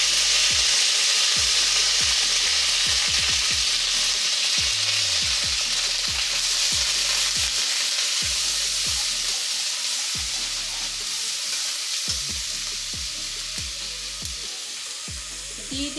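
Onion paste frying in hot oil with bay leaf, cinnamon and cardamom, a loud continuous sizzle with repeated scraping stirs of a spatula against the pan, slowly easing in intensity.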